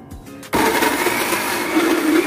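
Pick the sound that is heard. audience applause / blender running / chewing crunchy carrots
blender running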